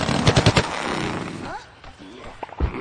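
The zombie cannon in Plants vs. Zombies Garden Warfare fires in a quick burst of four loud punchy shots, followed by softer game effects and a final thump, with someone speaking over the action.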